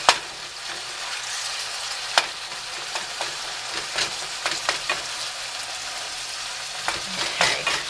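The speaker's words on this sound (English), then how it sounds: "I keep using the spoon to keep chopping as I go" Ground beef browns in a hot pan, a continuous crackling sizzle broken by repeated sharp scrapes and taps as a spoon stirs and chops the meat, close and fairly loud with no voices.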